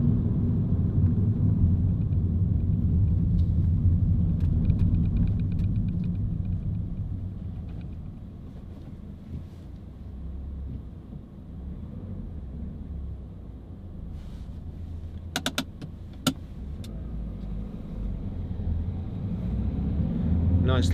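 Citroen C3 Picasso 1.6 HDi diesel car driving, a steady low engine and road rumble from inside the cabin, with a few brief clicks and knocks partway through.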